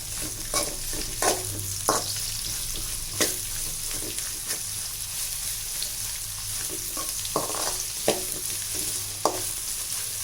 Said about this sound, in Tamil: பெரிய வெங்காயம் பொடியாக அரிஞ்சு வச்சுருக்கேன் அதையும் இதில் போட்டுடலாம் இது நல்லா வதக்கிடலாம்